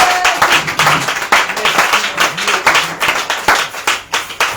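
A church congregation at a worship service claps loudly and rhythmically in unison, dense crowd applause filling the room with faint voices underneath.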